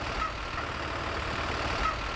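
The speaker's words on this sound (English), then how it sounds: "I think I hear the bus pulling up now." A bus pulls up to drop off students for a museum visit: a steady low engine rumble and broad road noise at constant loudness, close by, with no voices.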